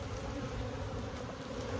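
Bees buzzing inside a crowded, built-up beehive, a dense, continuous droning hum heard up close with no voices.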